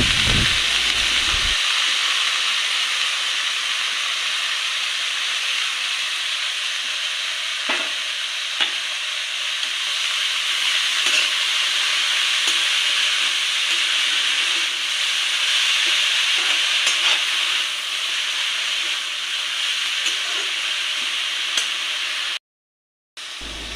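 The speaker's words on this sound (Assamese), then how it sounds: "এতিয়া মই কাটি থোৱা শাকখিনি দি দিছোঁ।" Chopped leafy greens frying in a pan with turmeric for an Assamese vegetable dish, giving a steady close sizzle with scraping stir strokes throughout, then a brief drop near the end.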